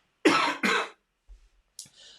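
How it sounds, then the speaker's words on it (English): Two sharp, loud coughs in quick succession, followed by a short pause and a fainter third cough trailing into a breathy exhale. "Let me cough."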